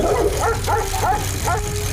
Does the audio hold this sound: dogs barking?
yes